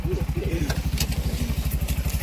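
Motorcycle engine idling close by, a steady low chugging pulse running through the whole stretch with faint voices in the background, on a muddy rural track after rain where a tractor got stuck.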